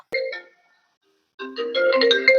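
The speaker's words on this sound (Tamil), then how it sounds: "பையன் ஃபோன் பண்றான்" Incoming-call ringtone on a mobile phone: a short tonal burst, a second of silence, then a longer, louder melodic stretch of layered electronic tones, heard alone without talk.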